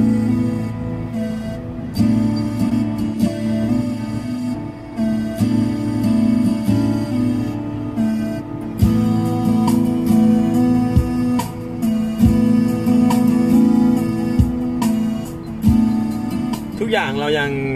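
Music streamed from YouTube and played through the audio system of a 2016 Honda Jazz, a steady beat-driven song heard inside the car while someone talks over it, the track cutting off abruptly at the end.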